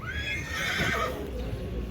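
A horse standing with other restless horses lets out a loud, shrill whinny that falls in pitch, followed by faint stamping and rustle nearby.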